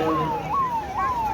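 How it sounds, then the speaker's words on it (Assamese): An ambulance siren wails in repeating rising-then-falling sweeps, about three cycles, loud and fairly near, over a busy street background. "এম্বুলেন্স আহিছে।"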